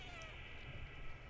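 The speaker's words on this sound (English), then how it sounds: "Stop meowing." A cat in the video game Stray meows softly, a faint, quiet call set against a steady background of game ambience.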